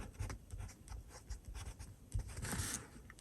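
A fude-nib fountain pen writing on Filofax paper with Noodler's Rome Burning ink, soft close scratchy strokes in quick rhythmic bursts, quiet and alone.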